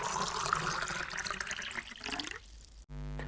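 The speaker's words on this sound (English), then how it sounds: "You can use the garden hose to wash it out and drain it." Garden hose spraying water to wash out the Ford MegaBox storage well in a car trunk, a steady hissing splash that thins toward the end, then a sudden cut and a different watery rush, close and fairly quiet.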